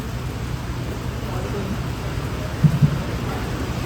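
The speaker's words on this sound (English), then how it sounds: "Probably it's raining outside, so maybe the voice may get interrupted." Steady rain falls outside a hall, a constant soft broadband hiss filling the space with a couple of faint knocks near the end and no clear speech.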